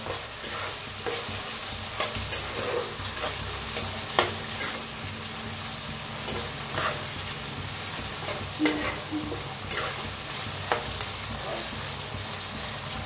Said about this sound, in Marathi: कढीपत्त्याला भी छान असं भाजायचं तेलातच